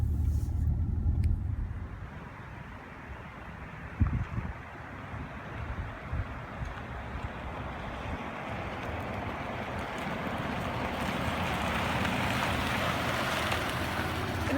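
A 2015 Lincoln Navigator with a turbocharged six-cylinder engine driving along, giving a steady, low rumbling engine and road drone that swells slightly toward the end, with no talking.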